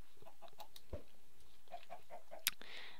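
Chickens in the video game Minecraft give short, soft clucks scattered through a few seconds, with a sharper click near the end and no talking.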